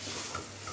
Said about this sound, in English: frying together our carrots,